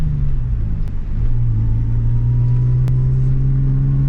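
A car engine idles and hums steadily in a rainy drifting video game with a Sportcross, low and continuous with a faint rising drone and no clear start-up crank.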